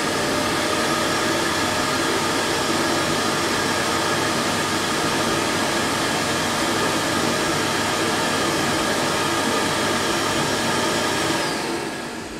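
An Ultenic MC1 robot vacuum's base station sucking dirt out of the robot, a loud, steady, close whooshing roar that holds for about eleven seconds before quickly winding down.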